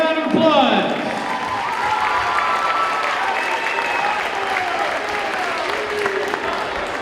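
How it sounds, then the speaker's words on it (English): Sustained applause and cheering fill a school pep rally as students and parents are called down, a steady wash of clapping with excited voices shouting over it, strongest at the start and holding throughout. "Give him a round of applause."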